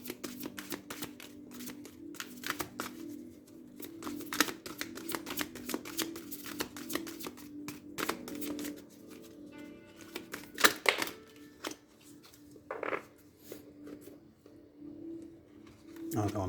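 Tarot cards shuffled by hand in a quiet room, a run of crisp riffling and flicking bursts with irregular pauses, close and moderately loud, a voice briefly audible.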